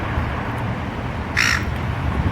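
A one-legged seagull gives a single short squawking call over steady outdoor wind and traffic-like rumble, heard briefly and fairly loud against the noise.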